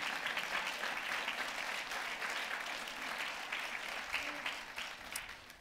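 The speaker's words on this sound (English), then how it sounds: "Give a round of applause for Sister Haley." A church congregation on a Sunday morning applauds a member, with steady, fairly soft clapping from many hands that carries on without a break for several seconds before beginning to thin out.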